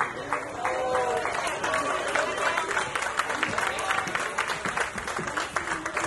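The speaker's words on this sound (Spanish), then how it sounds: "El aplauso, por favor, para Magda." Wedding guests applaud for Magda at a reception, a steady bed of crowd clapping mixed with voices and cheering calls.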